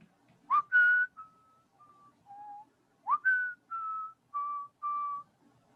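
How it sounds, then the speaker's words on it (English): A single person whistles a short, clear melody of sustained notes in two phrases, close and fairly soft, with no other sounds. "Can you whistle a little? Can you give us a little taste?"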